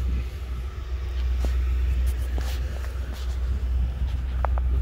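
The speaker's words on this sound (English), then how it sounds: "there's not much variation in the idling of the vehicle." A 1995 Mercury Cougar XR7 with dual exhausts idles in a low, steady rumble with little variation, accompanied by a few faint clicks and light handling sounds.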